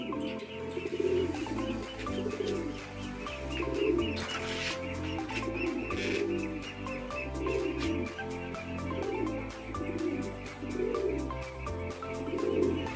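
Racing pigeons coo steadily in repeated rhythmic phrases while the flock flies, with a couple of louder bursts of flapping wings, all close by and with no talking.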